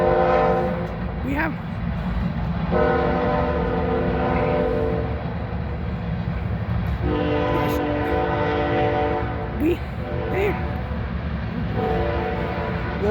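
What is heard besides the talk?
train passing by with horn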